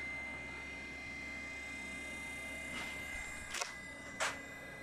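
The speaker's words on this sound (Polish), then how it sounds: "Ale ten dysk, kurde, hałasuje fajnie." A quiet, steady mechanical whir with a faint high whine from a noisy old hard drive in a 386 SX PC, interrupted near the end by a couple of soft clicks.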